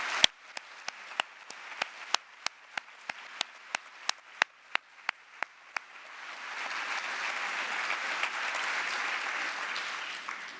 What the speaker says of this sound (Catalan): us demano un gran aplaudiment